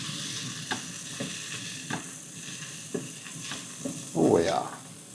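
Spiced chicken being stirred in a frying pan: soft scraping strokes at a steady rhythm over a low sizzle, ending in a louder, fuller scrape.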